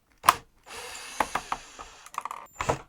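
A power drill works at screws in the corners of a one-of-a-kind clock case: short whirring bursts with ratcheting clicks and pauses between them, close and fairly loud, with no talking.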